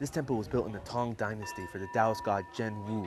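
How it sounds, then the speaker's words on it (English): Someone talks steadily while a monk strikes a temple bell on Yuntai Mountain partway through, ringing with a sustained metallic tone beneath his voice. "what you're hearing is the monk hitting the bell every time someone makes a prayer"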